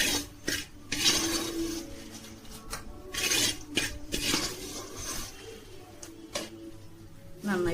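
Curry lime pickle mixture, sesame oil–sautéed spices and powder, is stirred in a pan with a spoon, giving repeated scraping and clinking strokes in an irregular rhythm, close and moderately loud.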